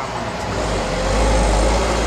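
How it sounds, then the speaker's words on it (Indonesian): Dense road traffic with many cars passing makes a steady, loud roar of engine and tyre noise nearby, with no talking. "Bising guys, banyak mobil lewat."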